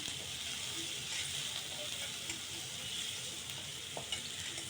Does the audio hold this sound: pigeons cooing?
no